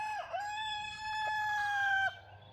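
A backyard homestead rooster crows in one long, drawn-out call, loud and close, with no talking.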